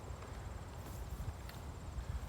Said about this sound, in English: And the goats came running down the meadow